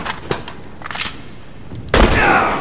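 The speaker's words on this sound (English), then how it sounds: "That shotgun's a little cheap." Shotgun blasts in The Last of Us multiplayer, a few sharp loud shots close together, then a heavier booming blast near the end.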